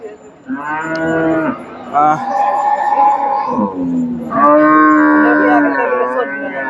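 Cattle moo loudly and repeatedly at a livestock market, long drawn-out lowing calls overlapping one another at close range with little else audible.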